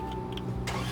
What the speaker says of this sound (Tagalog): Pakinggan natin ang pag naka-start ang sasakyan na to